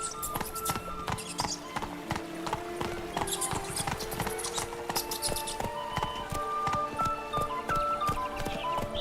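Horse hooves clip-clop in The Witcher 3: Wild Hunt, a brisk, regular run of sharp close hoof strikes over light game ambience and faint tonal music.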